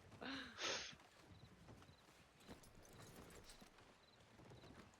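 A horse walks nearby, its hooves giving a short clip-clop and a brief whinny-like burst near the start, then faint, irregular hoof and movement sounds over a quiet night background at a western-themed evening hunt.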